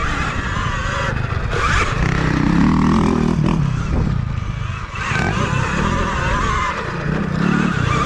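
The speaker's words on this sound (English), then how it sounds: "I'm on the Freeride. Richard's on the 2020 EXC." An electric 2020 KTM Freeride EXC dirt bike is ridden off-road, with a continuous close whine of motor and drivetrain rising and falling over rough terrain and some scraping of tires on dirt.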